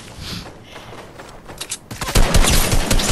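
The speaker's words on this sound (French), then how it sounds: "Donc là j'ai entendu des tirs," Gunfire rings out in a Fortnite Battle Royale match. A few scattered distant shots give way to a louder burst of rapid fire that ends in a sustained, intense exchange.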